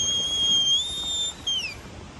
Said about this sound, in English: That's a whistle. Somebody's whistling.